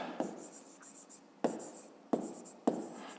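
Pen or pencil writing out a fifth-grade maths exercise on paper: soft scratchy strokes with four sharper taps as the tip meets the page, close and quiet, with no talking.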